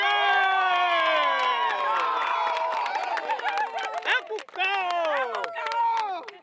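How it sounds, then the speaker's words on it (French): A crowd at an Ivorian political gathering in Ferkessédougou cheers with loud, high, sustained voices, sliding and wavering together. The cheering breaks into shorter bursts toward the end. "Applaudissements!"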